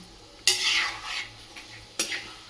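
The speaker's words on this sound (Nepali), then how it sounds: "एकछिन ठुलो सानो गर्दै यसो नटालिने पाराले यसलाई म चलाइदिन्छु।" Chicken stirred in a pan over a high gas flame: two scraping strokes of a utensil against the pan, each followed by a brief rustle, over a low steady sizzle, close and clear.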